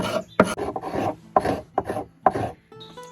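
Hand filing on a forged throwing axe head clamped in a vise, smoothing it after the rasp: several rough back-and-forth rasping strokes, close and fairly loud, with no talk.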